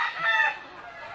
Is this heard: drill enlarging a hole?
no